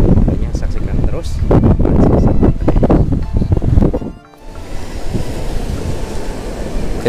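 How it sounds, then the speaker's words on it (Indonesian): Sea waves wash onto a beach at a river mouth, a loud broadband surf roar with gusty wind buffeting the microphone, easing briefly midway, while someone talks over it. "Ini cuman agak ombak ini"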